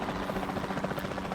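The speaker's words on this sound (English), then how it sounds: "We're actually now flying the helicopter." Steady whirring rotor and engine drone of a helicopter flying in the video game Jurassic World Evolution 2, continuous and even in level, with no voices.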